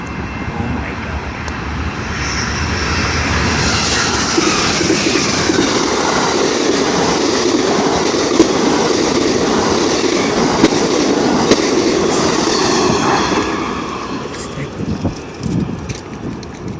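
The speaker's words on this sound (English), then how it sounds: "So that train was on the closest track to me." An Amtrak P42DC Genesis locomotive passing at over 70 mph on the nearest track of a BNSF line at La Grange, Illinois: loud, sustained roar and rumble of engine and wheels that fades near the end.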